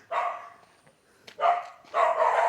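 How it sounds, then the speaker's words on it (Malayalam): A dog barks in three loud, separate bursts, close by, each a rough cluster of barks with short pauses between. "അയ്യോ പട്ടി ചാടി വരുന്നുണ്ടല്ലോ"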